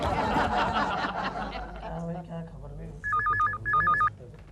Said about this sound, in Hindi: गोखले, मिसेस कुलकर्णी का फोन है